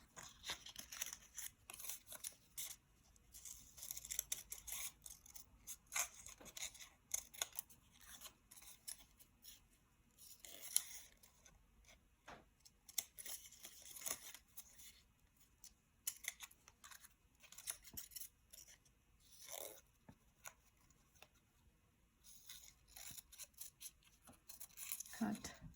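Scissors snip through paper while cutting out a bird's-eye snowman craft, a long run of short, faint crisp cuts and rustles close by, with a voice talking over parts of it.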